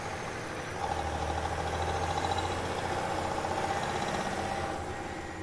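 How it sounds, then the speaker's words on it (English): A truck engine runs steadily close by with a low, continuous drone and a faint mid-pitched hum, holding a sustained level without clear rev peaks and with no voices. "I heard the unmistakable sound of an engine revving up behind me."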